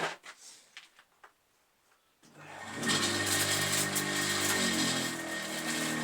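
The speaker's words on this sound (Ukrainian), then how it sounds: "Запускаємо наш млинок." A grain mill grinder for animal and poultry feed starts up after a couple of seconds of quiet scuffling, its motor rising quickly to a loud, steady, whirring roar that runs on to the end.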